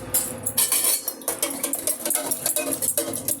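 Rapid scraping and clinking of a spoon stirring turmeric powder into buttermilk in a bowl, continuous and close, with no talk.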